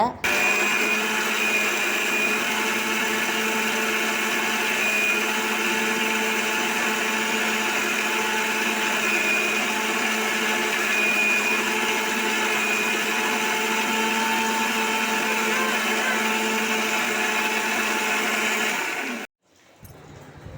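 A blender grinds coconut into coconut milk, its steady loud motor whirring unbroken for about nineteen seconds before cutting off abruptly.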